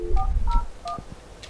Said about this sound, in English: You will then be allowed to enter an extension or a phone number.